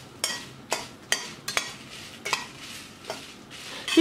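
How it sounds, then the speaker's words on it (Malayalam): Dried red and Kashmiri chilies dry roasting in a pan without oil, a faint soft rustle punctuated by a series of sharp scraping strokes of a spoon against the pan, close and quiet, no speech. "ഇത് നമുക്ക് ഈ ഒരു ചീനച്ചട്ടിയിലേക്ക് ഇട്ട് കൊടുക്കാം. പിന്നെ നമ്മളിത് വറക്കുന്ന സമയത്ത് എണ്ണ ഒട്ടും തന്നെ ചേർക്കുന്നില്ല."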